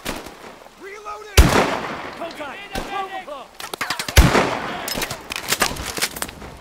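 Sharp sniper rifle shots from Call of Duty: Advanced Warfare crack loudly amid a busy game battle, a few heavy reports spaced apart over rattling background gunfire, with voices speaking between them.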